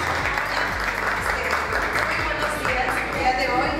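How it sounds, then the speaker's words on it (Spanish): Steady applause for a recipient at the Premio Las 25 Más awards, a continuous, even patter of many hands clapping at moderate volume with no break. "Le damos un fuerte aplauso"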